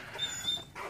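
A large dog gives a brief, faint, high-pitched whimper lasting about a second, with no one speaking.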